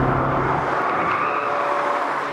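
A performance car's engine, driven hard on the road during a Ford Focus RS, Golf R, STI and Evo X comparison, revs loudly in a sustained, strained roar with tire and road noise, no talk.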